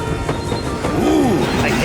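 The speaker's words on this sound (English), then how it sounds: "our train is here" A cartoon train pulls into a station, its wheels rattling and then squealing in a rising and falling screech over rumbling background noise.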